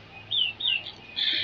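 Short, bright chirps from pigeons in a breeding loft come in three or four bursts over a quiet background. They are close and fairly faint, with no talking.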